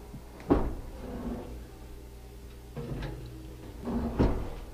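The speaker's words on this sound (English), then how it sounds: "Always open and shut the oven door each time." A home oven door opens and shuts with soft knocks and clunks, a few spaced impacts at close range in a quiet kitchen.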